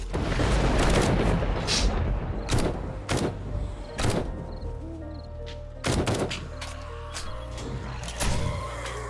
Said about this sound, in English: The shotgun turret on the roof doing its job.